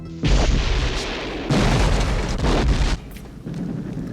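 A loud, deep rumbling explosion from the film Halloween III: Season of the Witch, with roaring debris, surging in waves and then easing into a lower, sustained rumble.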